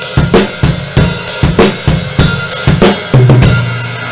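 A drum kit plays the rock beat from a song, with punchy kick and snare hits in a steady groove and a crash near the end, loud and close with no voices.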